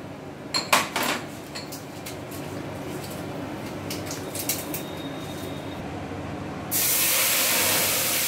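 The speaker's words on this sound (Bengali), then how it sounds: "ওই তেলের মধ্যে আমরা ফোড়নটা দিয়ে দেব।" Whole spices (cinnamon, four small cardamom pods and two bay leaves) hit hot oil for a potol paneer curry. A few faint clicks come first, then a sudden loud, sustained sizzling hiss near the end.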